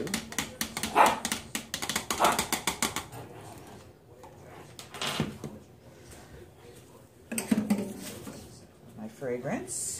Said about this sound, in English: There go the dogs.